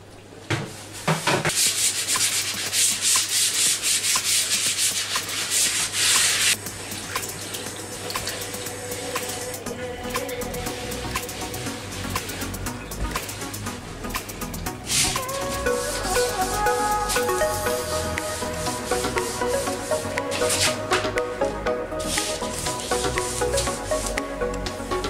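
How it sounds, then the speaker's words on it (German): A multicooker pot is scrubbed and washed in a home kitchen: continuous loud rubbing and sponge scrubbing, with running water and clinks of the pot partway through, close by and without talk. "Und dann mal den Multikocher auch abwaschen ein bisschen."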